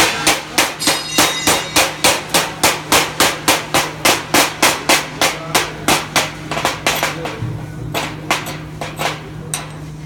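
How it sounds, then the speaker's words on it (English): A hammer chips slag off a fresh stick weld, striking about thirty times in a steady, fast rhythm of sharp metallic taps. It is close and loud, with a faint hum underneath. "we'll have a hammer so you can try to chip away at it"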